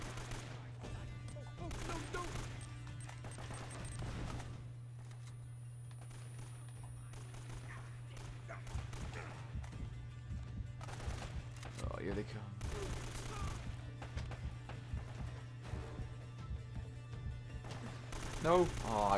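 Gunfire from the video game Uncharted: Drake's Fortune, scattered shots and bursts over a steady low hum, with someone talking through much of it.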